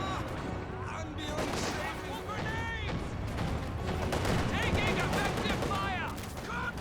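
Rifle volleys crackle on a Company of Heroes 2 battlefield, dense overlapping gunfire and distant bangs running steadily under a commentator's continuous talk.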